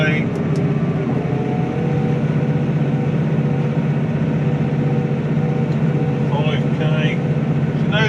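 A car engine pulls hard at near-full load, around 4,500 to 5,000 rpm in gear, making a loud, steady, droning roar that holds unbroken throughout.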